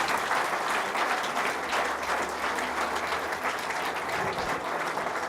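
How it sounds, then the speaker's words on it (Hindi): A church congregation claps loudly during a Friday service after a testimony, a thick sustained wash of applause from start to finish with no voices on top. "जोरदार तालियां बजाएं यीशु के नाम को जलाल देने के लिए।"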